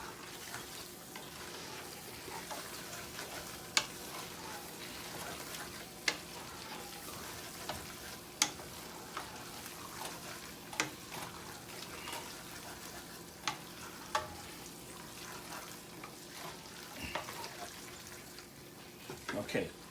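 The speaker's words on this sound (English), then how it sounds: "Take those sausages and pull them right in. And mix them" Sausages frying in a gumbo pot as they are stirred in, a continuous sizzle under scattered sharp spoon clacks against the pot, with some talking over it.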